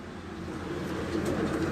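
Soft, low cooing of pigeons repeats steadily over a faint background hum, close but quiet.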